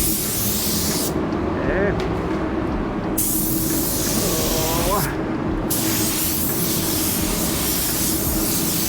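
A spray gun lays down pearl white paint in a steady, close hiss that runs almost without break through the whole stretch, pausing briefly twice, with a short spoken word over it.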